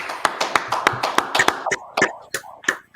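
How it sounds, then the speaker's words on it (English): Group of men clapping hands in rhythm at a brotherhood class, sharp claps near and loud at a steady pace that grows looser and more scattered toward the end. "All right, clap it up."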